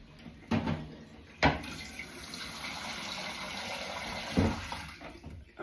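Soaking water tipped from a saucepan that held rice into a kitchen sink, a steady close pour running for a few seconds, bracketed by sharp clunks of the pan against the sink.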